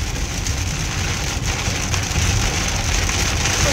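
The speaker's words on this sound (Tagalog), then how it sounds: "Naku, lakas ng patak ng ulan." Heavy rain drums steadily on a car during a downpour with zero visibility, a dense, loud, continuous patter heard from inside the vehicle with no talk over it.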